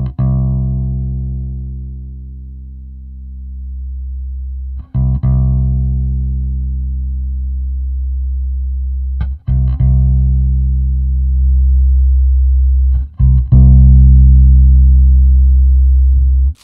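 Bass guitar through an Ampeg SCR-DI with its EQ in use sounds deep, sustained low notes, re-struck four times at roughly four-second intervals, each ringing out and slowly decaying, with no voices.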